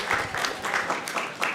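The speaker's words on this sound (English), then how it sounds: "round of applause for our student leaders here" A youth civic forum crowd claps for its student leaders, a short burst of brisk, overlapping handclaps with a few sharp individual claps, close and lively.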